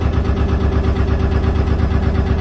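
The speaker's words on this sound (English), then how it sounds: "engine's running nicely" A narrowboat's engine runs steadily on the canal, a loud, low, even chugging throb with a regular beat and no voices over it.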